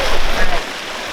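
Water flowing in the Fort River in Amherst, a steady broadband rush that is louder at first and then eases to a softer wash, with voices present.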